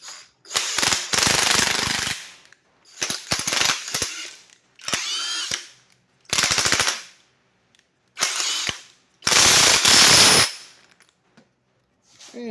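A Snap-on 18V and a Uaoaii 18V cordless impact wrench are locked together on one bolt, one set forward and one in reverse. Loud rapid hammering comes in about six close bursts of one to two seconds, with silent gaps between.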